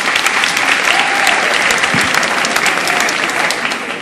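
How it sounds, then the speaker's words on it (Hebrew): Audience applause fills a hall after a question at a public talk, steady and dense clapping from a large crowd throughout, loud and close with no voices over it. "מחיאות כפיים מגיע לה."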